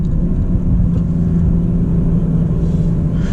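BMW M340i xDrive engine heard from inside the cabin during a manual gear shift, a continuous loud low rumbling drone with a steady hum and a slight rise in tone near the end.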